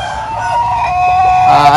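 A black rooster crows loudly and close by, one drawn-out cock-a-doodle-doo rising in pitch toward the end, with faint clucking from other fowl underneath.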